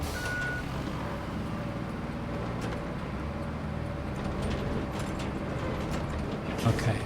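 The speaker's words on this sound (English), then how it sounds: "going too fast in a big rusty dozer in low gear" A big rusty bulldozer in low gear from the video game Roadcraft, a continuous low engine rumble with clanking mechanical noise and a short beep near the start, steady throughout with a brief knock near the end.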